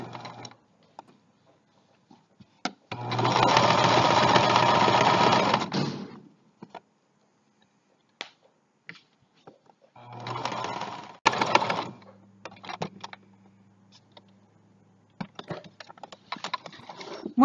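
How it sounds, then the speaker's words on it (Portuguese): A sewing machine stitches the edge of a baby towel in two bursts, a steady whirring run of about three seconds, then a shorter run after a pause with light handling clicks between. "nós começamos a costurar, damos um retrocesso na máquina e continuamos a costurar"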